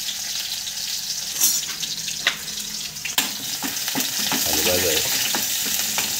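Garlic hits hot oil in a pan with a piece of tamarind, giving a loud, sustained sizzle with sharp spoon clicks and stirring scrapes, while a voice speaks briefly.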